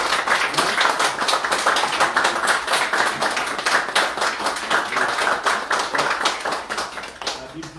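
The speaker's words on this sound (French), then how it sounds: "On va frapper les mains." A worship congregation claps hands together in a steady rhythmic beat, dense and loud throughout, with voices mixed in.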